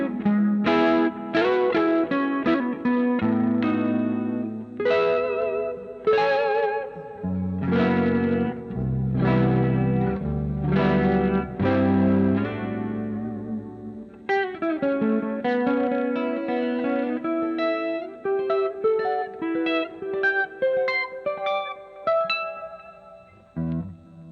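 A UV77MC replica electric guitar plays a clean tone on the neck pickup, with chorus and effects shimmering over chords and single notes in a steady, loud passage with no talking.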